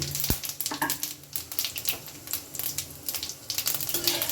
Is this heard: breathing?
no